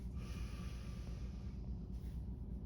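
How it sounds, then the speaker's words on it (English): A quiet, slow breath drawn in through the nose during a guided breathing exercise, one soft, airy inhale stretching over a couple of seconds, close and gentle, with no talking. "You're going to inhale slowly through your nose for 4 counts."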